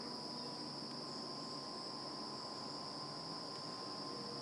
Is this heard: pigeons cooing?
no